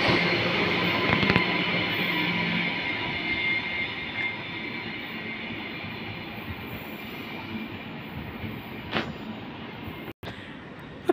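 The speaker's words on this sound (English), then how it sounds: "Approaching platform number 2 here at South Brisbane Station, we have the Brisbane City and Brisbane Airport service. It is indeed another NGR service." An NGR electric passenger train pulls into platform 2 at South Brisbane Station in Queensland with a steady rolling rumble, a whining motor and high wheel squeal, then a brief sharp clank near the end.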